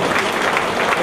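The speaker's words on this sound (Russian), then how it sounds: "Аплодисменты." Dense applause from a crowd at a combat sports bout, steady clapping filling the whole moment at close range.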